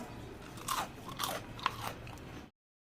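Crispy Maharashtrian spinach fritters (palak bhaji) are bitten and chewed up close, giving several loud, crackling crunches in quick succession before falling silent.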